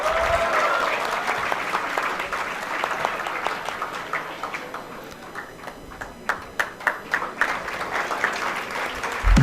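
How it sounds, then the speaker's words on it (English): Audience applause at an award ceremony, sustained dense clapping from a large crowd that thins into scattered individual claps toward the end. "Come on, guys, let's give a big round of applause"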